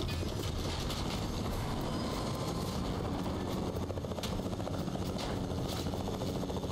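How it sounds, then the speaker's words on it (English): A Fortnite helicopter thrums steadily and loudly, its rotor chop a dense, constant wash that holds throughout without a break. "Did y'all see the helicopter?"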